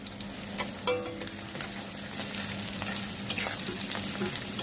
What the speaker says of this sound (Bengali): এইবার এইভাবে কিছুক্ষণ কষিয়ে নিতে হবে।